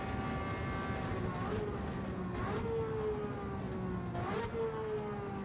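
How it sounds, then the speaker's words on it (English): Ferrari 330 P4 race car from 1967 Le Mans in Gran Turismo 7, its engine drone dropping in pitch through a few downshift blips as the car slows, steady and prominent throughout. "Listen to that down change."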